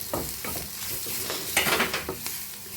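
Turmeric, chilli powder and garam masala stirred in a hot pan, a close, steady sizzle broken by repeated scraping strokes of a spoon every half second or so, with a louder burst of stirring toward the middle.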